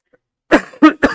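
Three harsh coughs in quick succession, loud and close, after a brief silence.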